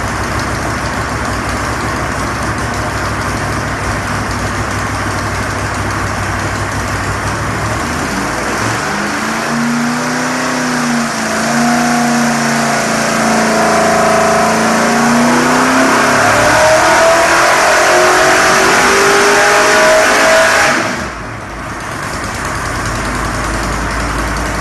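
A Ford 390 FE V8 in a mild build runs on a dyno, idling at first, then revving up in several rising and falling sweeps before the throttle drops off sharply near the end; loud and close.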